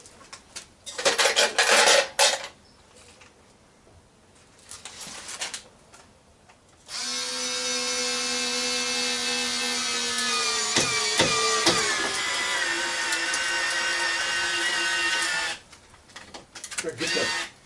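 A Hyper Tough power drill whines steadily for about nine seconds, driving a 3.5 inch screw into wood, with short bursts of clatter and handling noise before and after.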